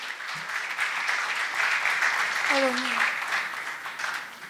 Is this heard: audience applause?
yes